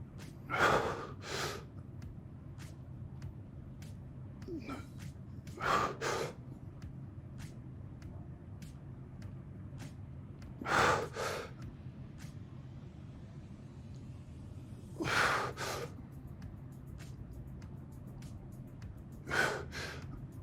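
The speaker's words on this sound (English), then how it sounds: "I hope you can really hear my breathing there" Heavy, forceful breaths during a barbell exercise come in short bursts about every five seconds, each a sharp gasp or exhale over a low steady background rumble.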